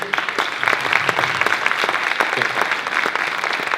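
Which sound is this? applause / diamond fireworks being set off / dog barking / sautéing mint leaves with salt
applause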